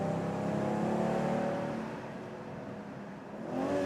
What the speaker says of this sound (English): And you literally feel how smooth this engine is operating.